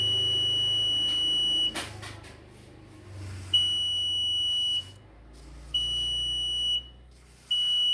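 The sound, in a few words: homemade LDR light-sensor alarm beeping when laser beam is blocked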